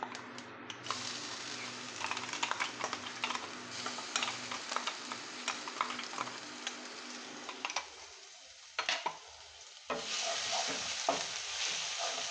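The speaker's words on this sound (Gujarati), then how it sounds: "ગેસની ફ્લેમ ધીમી રાખી અને મસાલા પેસ્ટ સાંતળી લેશું" Garlic masala paste sautéing in a pan over a low gas flame, a steady soft sizzle with rhythmic ticking scrapes of a spoon stirring, close up, dipping quiet briefly before the sizzle returns.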